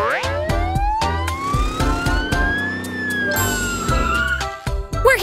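A wailing ambulance siren sweeps steadily up and down, loud and close, with a second tone joining partway through over faint background noise.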